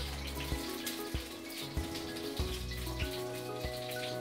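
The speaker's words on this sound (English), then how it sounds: "fill that with boiling water" Boiling water is poured into a cooking pan in a steady, close rushing splash, with soft low knocks recurring about every half second throughout.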